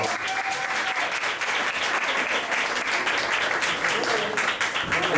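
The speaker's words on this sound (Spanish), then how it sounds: "le pido un enorme aplauso, por favor" An audience at a live music evening gives loud, sustained applause for a singer, a dense roar of clapping with a brief tonal note and a few voices underneath.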